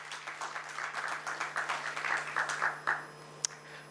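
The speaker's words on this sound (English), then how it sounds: "Give yourself a big round of applause for that." An audience applauds at a stock exchange listing ceremony for One Source Specialty Pharma Limited. The clapping is soft and somewhat distant, a steady patter of many hands for about three seconds before it fades.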